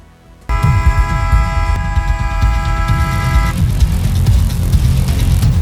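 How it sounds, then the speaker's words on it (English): A car-train hybrid vehicle rolls along rails with a steady, loud rumble. A sustained horn toot sounds for about three seconds near the start, then the running noise carries on alone. "Meet the car-train hybrid that dodges traffic by hopping onto rails"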